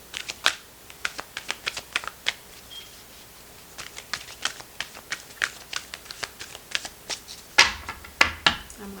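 Tarot cards are shuffled close up in a quick run of crisp riffling flicks and taps, irregular and sharp, ending with a louder flurry as a card is drawn.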